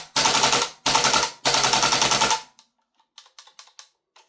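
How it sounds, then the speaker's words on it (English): A WellPro PPK-20 gas blowback airsoft rifle fires full auto in three loud, rapid bursts, each over half a second long, followed by a few faint mechanical clicks and rattles. "Let's see if we can do more full auto."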